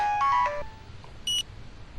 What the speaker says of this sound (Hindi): लगता है डैड का फोन आ गया